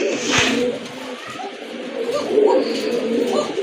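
A pair of pigeons, a breeding pair kept with their eggs, coo in low, continuous murmuring phrases that swell slightly toward the end, close by, with faint indistinct background sound.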